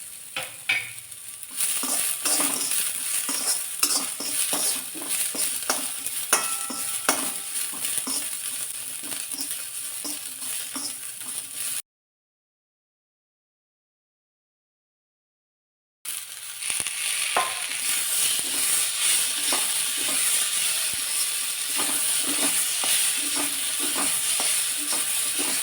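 Onion and white sesame seeds roast in a pan with a soft, continuous sizzle and repeated scraping stirs. The sound breaks off into a few seconds of silence partway through, then resumes, with no one talking.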